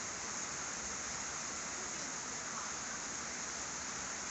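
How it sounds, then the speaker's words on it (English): Steady afternoon rain falls as an even, unbroken hiss, faint and constant throughout with no voices. "this afternoon's just been kind of a steady rain"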